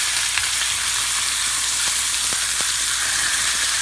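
Heritage pork chops frying in a pan give off a steady, close, bright sizzle with a few faint pops and clicks, with no voices over it.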